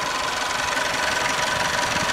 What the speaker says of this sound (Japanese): エンジン音も聞こえるかな